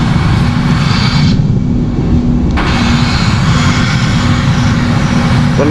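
Airbus A320 engines roaring at takeoff thrust in the Project Flight video game, a loud, continuous broadband jet rumble with a steady low drone, no voices over it.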